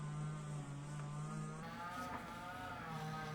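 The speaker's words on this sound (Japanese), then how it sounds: "隣の空き地で草刈り機の2ストロークエンジンがうなっております。" A small, new 30cc two-stroke brush cutter engine drones steadily in the distance from a neighboring vacant lot, its buzzing pitch shifting slightly partway through, with no voices.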